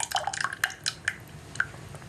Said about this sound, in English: First, take some fresh pineapple juice and pour into a pan.